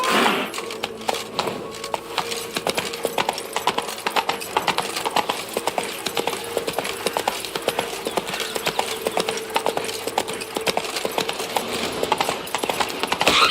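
Geralt's horse Roach from The Witcher 3: Wild Hunt clip-clops in a steady, even trot throughout, close and clear over a faint game ambience.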